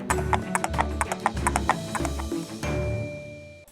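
Horse hooves clip-clop in a steady trotting rhythm as they pull a Peppa Pig toy royal carriage, close and clear, with a brief whinny-like tone near the end and no talking.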